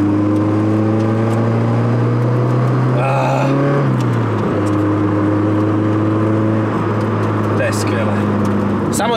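A Nissan PS13 car engine hums steadily and loud while accelerating on the road, its pitch rising smoothly, dipping briefly at a gear change and climbing again, with continuous drone throughout and no speech.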